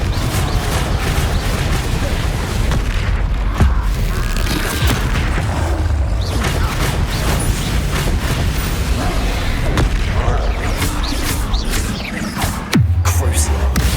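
Confringo blasting spells explode one after another in the Hogwarts Legacy video game, with loud booming bursts and sharp cracks packed into a dense, continuous battle din that keeps the whole scene near full volume.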